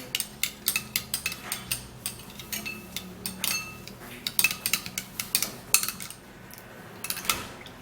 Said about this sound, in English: we're going to try to mix the banana peel